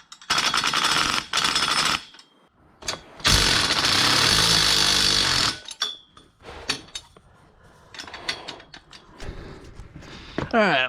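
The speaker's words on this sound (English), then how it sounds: "I think I just need to weld them on." Welding steering rack mounts onto a project car, heard as loud bursts of crackling, buzzing arc noise, each lasting a second or more, broken by short pauses and quieter clinks and handling sounds.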